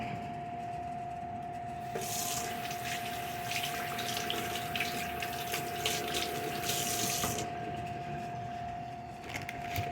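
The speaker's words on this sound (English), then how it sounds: "So I'm going to wash my hands really quick." A tap runs steadily for about ten seconds while hands are washed at a sink, a constant hiss with a faint pump hum beneath and brief splashing bursts as the flow changes.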